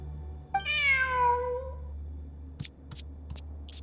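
A single drawn-out cat meow from Genshin Impact rises and fades over a low steady hum, followed by a few soft clicks.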